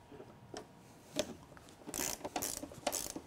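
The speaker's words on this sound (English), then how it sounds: "Or if you have a ratcheting box, it's gonna be a little bit easier" Ratcheting box wrench working the top nut of a Bilstein shock absorber, giving a few brief irregular clicking bursts, close and fairly faint, with no talking.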